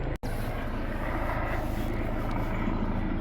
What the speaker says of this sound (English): I'm not doing anything with that helicopter there. It's annoying me too.